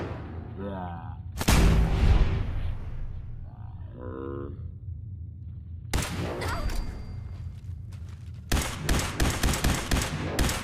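Video game gunshots during a hunt near a red stag: sharp single shots ringing out, later a rapid cluster of cracking reports, with bellowing animal calls and quiet gaps between.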